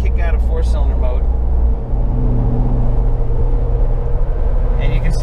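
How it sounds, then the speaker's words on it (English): A GM vehicle's engine with cylinder deactivation (AFM/DOD) runs close by as a steady, loud low rumble when throttle is applied and it leaves 4-cylinder mode. A voice is heard briefly at the start and again near the end. "Let me give it a little bit of throttle and we'll kick out of 4-cylinder mode"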